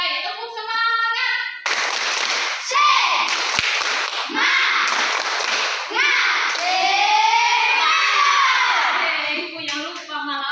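Classroom group of children and teacher standing and performing a rhythmic clapping cheer, sharp patterned claps with chanted voices loud and close, broken by brief pauses between rounds.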